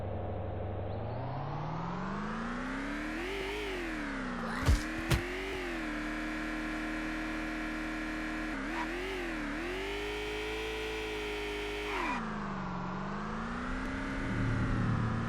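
Engine drone of a car driving in the zombie survival game VEIN, steady and close, with pitch rising and falling as it accelerates and shifts, plus a couple of brief knocks midway.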